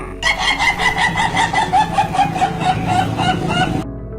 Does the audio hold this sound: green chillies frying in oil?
no